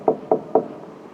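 Three sharp knocks on a wooden surface, evenly spaced and close, rapping out a steady knock-knock-knock before fading into quiet room tone.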